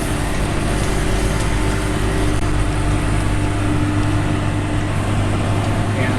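A tractor cutting hay in an irregular field runs with a steady, loud engine drone that stays constant throughout, heard close by with no clear change in pitch.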